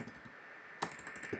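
A command is typed on a computer keyboard during server configuration, with soft, rapid key clicks close to the microphone, quiet under a faint steady background hiss.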